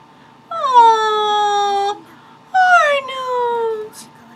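A dog in a Jojo's Bizarre Adventure anime episode lets out two long, high, drawn-out whimpering whines, loud and close, each sliding downward in pitch with a short gap between them.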